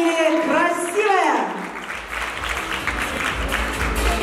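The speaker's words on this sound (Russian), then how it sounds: "Брутальные аплодисменты" Audience at an intellectual contest breaking into applause after a voice fades out, steady crowd clapping filling the rest at moderate loudness.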